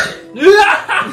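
Loud, close burp with a rising, voiced tone lasting about half a second, from someone who has just eaten a huge portion of Peyang instant yakisoba, followed by a short spoken exclamation.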